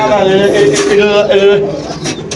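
Pigeons, racers and high flyers for sale, coo in a steady, droning murmur close by, with people talking loudly over the birds.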